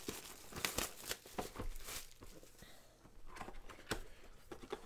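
Faint foil crinkling and tearing as 2019 Panini Prizm Draft Picks football card packs are ripped open during a box break, soft scattered rustles with no voices.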